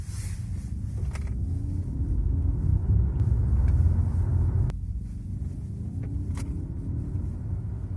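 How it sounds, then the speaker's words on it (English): A Škoda Octavia Green E Line electric car drives along with a low, even road rumble and tyre noise heard from inside, plus a few faint clicks and knocks. "the car's fairly nippy, and that is thanks to the instant torque of the electric motor"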